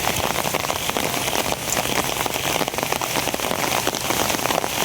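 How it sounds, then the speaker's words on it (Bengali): Heavy rain pours down steadily, a dense, loud hiss of drops drumming on surfaces that continues unbroken throughout, with no voices over it. "হ্যাঁ রে বৃষ্টি সকাল থেকেই বৃষ্টি"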